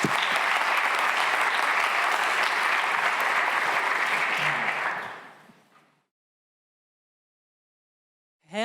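Dense audience applause at a conference event in Berlin rolls on steadily for several seconds, then fades out into silence before a voice begins.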